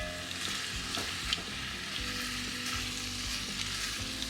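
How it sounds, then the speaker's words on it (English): Vegetables sweat in a Dutch oven for chicken soup, a steady gentle sizzle and crackle with light stirring taps, close up and without talk. "Letting my veggies just do a little bit of sweating."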